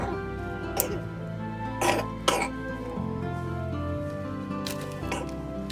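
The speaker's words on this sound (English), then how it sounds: "That's his baseline cough" A baby boy recovering from sagittal craniosynostosis surgery gives a few short throaty coughs and throat-clearing sounds, scattered across the clip over a steady, busy background hum.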